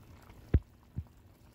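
Pork stew being stirred in a pot, two soft low thuds and sloshes of the spoon moving the thick liquid, close and quiet.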